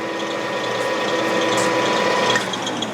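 A Clausing 10-inch by 30-inch metal lathe runs with its feed engaged, a continuous close mechanical whir of meshing gears with steady tonal hum and light rattling, no voices.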